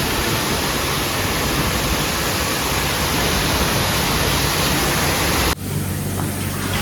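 Water gushes steadily into a bath at a hotel on a trip to Thailand, a loud, close, broadband rush that cuts off sharply near the end.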